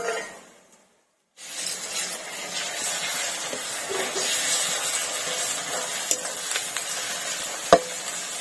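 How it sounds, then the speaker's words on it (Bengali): Garlic paste hits onions already frying in oil, a brief silence giving way to a dense, continuous sizzle that holds steady and close, dotted with small pops and one sharp clink near the end. "বন্ধুরা এবার রসুন বাটাটা দিয়ে দিচ্ছি। পেঁয়াজটা ভাজাই হয়ে যাচ্ছে, রসুনটা দিয়ে দিচ্ছি।"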